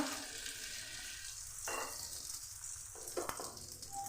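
Cabbage and egg toast frying in a pan over a medium gas flame, a soft, steady sizzle with faint stirring or scraping touches and no talk.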